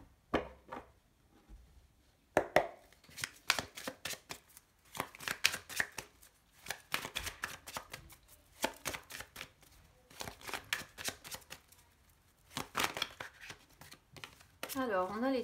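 Tarot cards shuffled and cut by hand, giving a long run of crisp, rapid riffling and slapping bursts that come close and loud, separated by brief pauses, with a voice talking between them.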